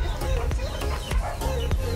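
Pigeons in a backyard loft give a series of sharp, close calls and flutters, about five distinct bursts at a fairly even rhythm over a busy animal background.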